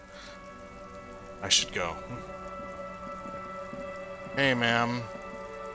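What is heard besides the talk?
rain falling in the video game Disco Elysium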